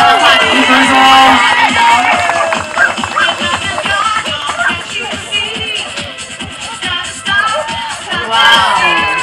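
A loud, continuous crowd cheers and shouts at a wire fox terrier frisbee freestyle championship, with whoops and excited voices layered throughout.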